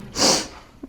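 One short, sharp sneeze bursts out close by, followed by a faint breathy sound.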